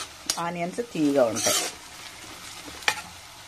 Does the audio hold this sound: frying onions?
yes